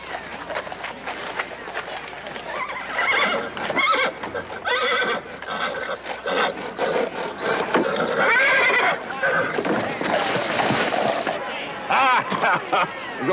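Horses neighing and whinnying during a horse race in an old Planet of the Apes television episode, with hoofbeats, loud repeated calls and voices speaking over the commotion.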